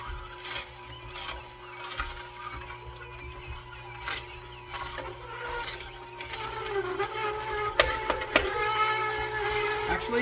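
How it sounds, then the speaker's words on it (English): A home juicing machine works through whole celery stalks after limes, giving a steady mechanical whir with rising grinding and squeaky bursts near the end, and a voice talks faintly over it. "this machine handles celery pretty good"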